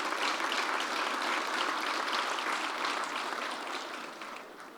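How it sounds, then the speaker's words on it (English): Sustained crowd applause at a hospital grand opening, steady dense clapping for nearly five seconds that tapers slightly toward the end. "A round of applause to you."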